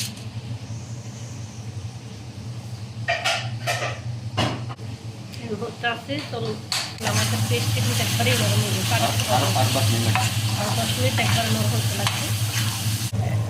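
Spices and lemon pieces are tempered in hot oil while fish is cooked, with a loud, steady sizzle that swells partway through, scattered stirring clatter early on, and voices talking over it.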